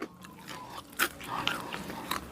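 Fried tempeh is crunched close up at breakfast, with quiet, irregular crisp bites and chewing noises over faint background room sound.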